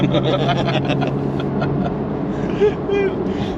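A C8 Corvette Z06 accelerates in sport mode, its engine a steady, fairly loud drone heard from inside the car, with a few brief tonal chirps near the end.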